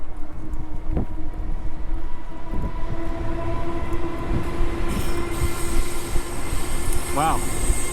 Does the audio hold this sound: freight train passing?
yes